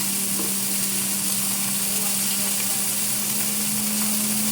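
Burgers fry in a pan with a steady, loud sizzle that holds through the whole stretch, along with a constant background hum and no talking.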